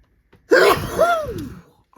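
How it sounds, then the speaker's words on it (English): One powerful human sneeze bursts out loud and close, with a sharp intake and a forceful explosive release that trails off, while working on a diamond painting. "that sneeze was so powerful it's knocked all these jewels on here"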